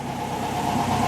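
A 1965 VW Beetle engine runs steadily at idle, a close, even mechanical hum with a low rhythmic pulse and no talking.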